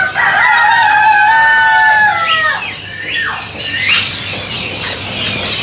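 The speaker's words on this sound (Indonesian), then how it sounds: "Tuh, ini jalak suren yang nota gacoran." An Asian pied starling sings a loud, close series of clear whistled notes and sliding calls, followed by harsher chattering bursts, with steady background noise underneath.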